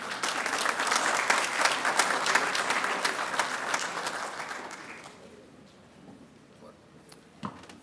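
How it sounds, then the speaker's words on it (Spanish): Steady applause from a ceremony audience for a lawyer being honoured at a Lima bar association induction, loud and dense for about five seconds, then fading out to a quiet room with a single faint knock near the end. "Aplauso para él."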